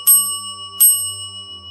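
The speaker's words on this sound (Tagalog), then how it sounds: "Kinuha pa nito ang maliit na kampanilya" A small hand bell rings twice, two bright metallic strikes about 0.7 seconds apart, each leaving a clear sustained ringing tone that fades slowly. Loud and close, with no voices.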